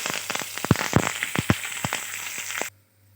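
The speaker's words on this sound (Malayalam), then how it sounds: "ഉണക്കമുളകും കറിവേപ്പില ഇട്ട് കൊടുക്കാം." Dried red chillies and curry leaves hit hot oil, giving a lively sizzle with sharp, irregular pops and crackles up close before the sound cuts off abruptly.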